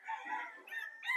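A gamecock on a gamefowl farm gives a short, faint, distant crow lasting about a second, thin and slightly wavering.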